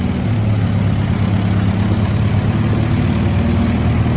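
An antique tractor built on a D14 chassis with a Series 2 D15 gas engine runs in a loud, steady low rumble, close by and unbroken.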